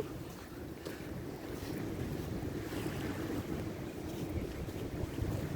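Wind buffets the microphone in a steady, close rumble during a morning walk on a beach in the Dominican Republic, with the wash of surf blended in and no talking.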